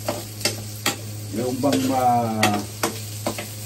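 Food frying in a pan while it is stirred, with a steady sizzle under intermittent scraping and stirring strokes, and brief speech partway through.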